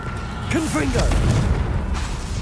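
Confringo blasting spell in Hogwarts Legacy, a short booming burst with a whooshing magical sweep, closely overlapped by a shouting voice.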